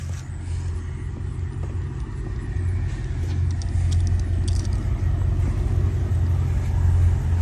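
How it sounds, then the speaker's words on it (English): A 2003 Mercedes SL500 roadster runs as it is driven out of a garage. Its engine gives a low, steady idling rumble that slowly swells a little louder, with no talking. "Let me move this car, pull this thing out the garage so I can have some space."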